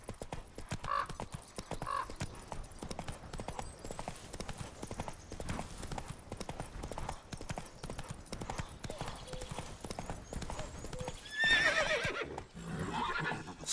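Roach, a horse in The Witcher 3, gallops in a steady, rapid clip-clop of hooves with a couple of neighs or whinnies. A voice speaks over the hoofbeats, and a louder burst near the end briefly covers them.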